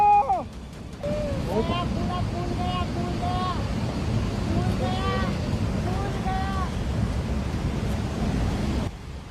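A flash flood in Tangling, Kinnaur, Himachal Pradesh roars past in a dense, continuous rush of water, with people shouting and screaming over the torrent.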